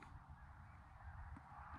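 Several geese honk at a goose hunt, calls overlapping at moderate distance across a steady background with no talk.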